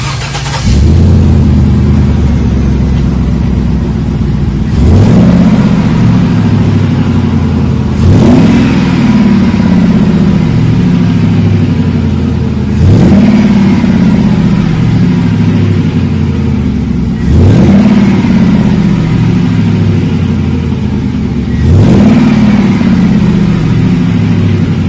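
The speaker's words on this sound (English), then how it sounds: "Just a nice Magnaflow dual in, dual out, wide open muffler" 2006 GMC Sierra running through a Magnaflow dual-in, dual-out wide open muffler, revved up sharply about every four seconds, each blip rising and settling back to a mellow, deep idle rumble, loud and close.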